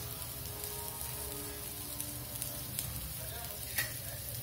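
Chapathi frying in melted ghee on a low flame, a steady soft sizzle with faint crackles and a few small pops, close and continuous without any talk.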